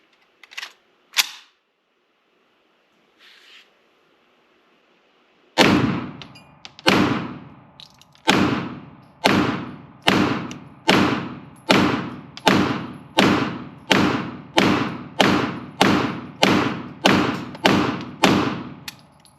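A pre-ban Cobray M-11 9mm fires without a suppressor: two early shots, then a long run of about fifteen loud, sharp reports in a steady, evenly spaced rhythm, each with a short decaying tail and no talking.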